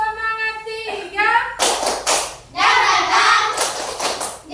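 A school class does rhythmic spirit clapping (tepuk semangat) in an Indonesian classroom, with sharp bursts of many hands clapping in quick rhythmic groups after a voice speaks.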